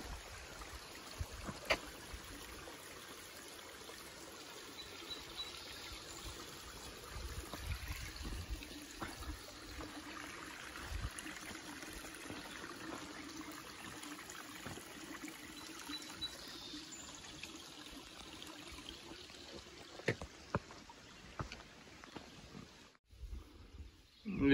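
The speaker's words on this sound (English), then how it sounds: "this is the brook or the creek coming out of that beaver pond." A brook flows out of a beaver pond on the Appalachian Trail, a soft, continuous trickle and gurgle of running water heard faintly at a distance with occasional small bumps.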